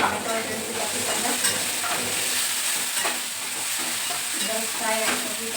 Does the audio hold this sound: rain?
no